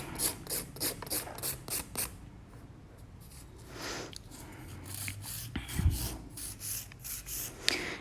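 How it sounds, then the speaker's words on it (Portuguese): Gel nail being filed with a nail file during a decorated gel manicure maintenance, rapid rhythmic rasping strokes close up, pausing briefly midway before resuming with steady back-and-forth scraping. "E vou lixar aqui"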